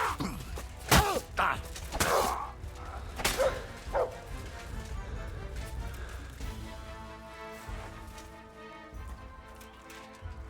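A dog in the game Kingdom Come: Deliverance II barks a few times early on, then whines and whimpers more faintly, with game ambience and some voices underneath.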